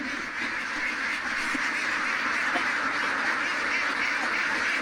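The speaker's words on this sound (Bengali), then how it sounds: "আমি আমার আপনাদেরকে আমি এবার আমার হাঁসগুলোকে একটু খাড়া দেখাই" A large flock of around a thousand farm ducks quacking together, forming a dense, steady wash of overlapping calls with no single bird standing out and no talk.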